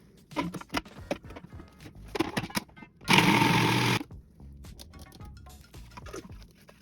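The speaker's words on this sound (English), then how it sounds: "Grind onions in the food processor." An electric food processor grinds onions in a single loud burst of about one second, set between lighter kitchen clatter and tapping before and after.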